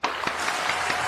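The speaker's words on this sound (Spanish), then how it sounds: "un aplauso fuerte para él" A studio audience claps in a brief steady round of applause, fairly faint and slightly distant.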